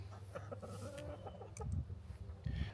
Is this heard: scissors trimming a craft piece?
no